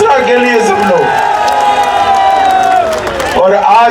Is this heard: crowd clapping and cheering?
yes